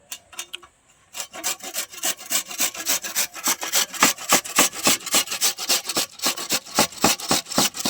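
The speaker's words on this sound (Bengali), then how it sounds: "দেখুন, মূলোটা ঘষার জন্য এখানে আমি একটা গ্রেটার নিয়েছি, এবার গ্রেটারের সাহায্যে গ্রেট করে নেব।" A radish is rubbed against a hand grater in quick, regular rasping strokes, roughly two or three per second, close and loud after a few hesitant scrapes and a brief pause at the start.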